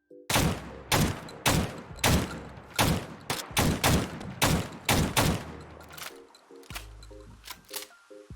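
A .410 Varmint shotgun in Fallout 4 fires about eleven loud blasts in a steady, evenly spaced rhythm, each shot trailed by short mechanical action clicks, ending with several quieter reload clacks.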